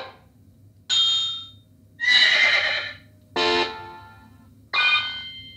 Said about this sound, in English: This is the bell basically, and you can access the bell when you press on the button.